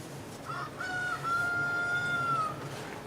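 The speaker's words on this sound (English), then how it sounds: "I don't know if you can hear my rooster," A rooster crows once in a long drawn-out call at moderate distance over a steady outdoor background hum, with no talking.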